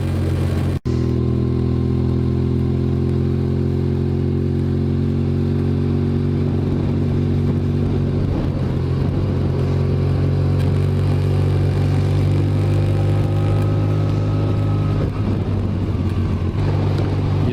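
A loud, rough engine of a polluting vehicle idles and rumbles steadily up close, its pitch shifting slightly as it revs and moves, with a brief dropout early on.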